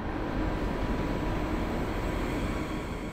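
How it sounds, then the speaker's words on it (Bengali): A train pulls out of a station after a five-minute halt, making a loud, steady rumble and rattle of wagons that holds unbroken throughout. "ট্রেন 5 মিনিট দাঁড়িয়ে আবার রওনা দেয়"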